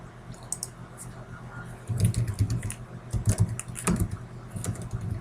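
Computer keyboard typing comes in quick irregular bursts of clicks, close by, with soft speech in the background.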